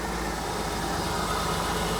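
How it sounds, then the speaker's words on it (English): A BMW engine idles steadily, a continuous low rumble with a faint vibrating hum, close by and even throughout. "Just listen how good it runs."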